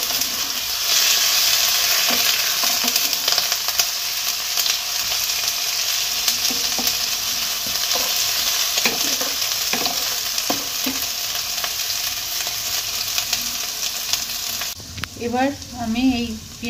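Onions frying in a pan until reddish brown make a loud, continuous sizzle with intermittent stirring scrapes, and a voice speaks briefly near the end.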